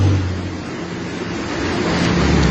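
Traffic ploughs through deep flash-flood water on Mittraphap Road into Korat. A loud, continuous rushing wash of water and engines sounds close by, with wind buffeting the microphone throughout.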